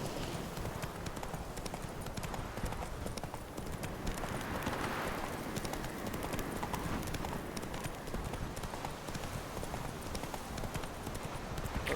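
Roach, Geralt's horse in The Witcher 3, gallops with a steady, continuous clatter of hooves throughout, loud and close, layered over dense game ambience.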